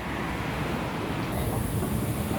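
A metro train rolls along on an MRT line, a steady loud rumble with faint wheel squeal and clatter, heard from inside the car with no talk.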